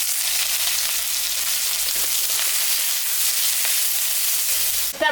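Onions frying in oil in a kadai, a steady, close sizzle with faint stirring, ending in a brief clatter.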